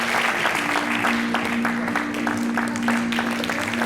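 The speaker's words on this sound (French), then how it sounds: "je refais mon entrée sous vos applaudissements" An audience applauds a stand-up comedian's entrance, steady clapping heard over a sustained low musical tone, moderately loud and continuous throughout.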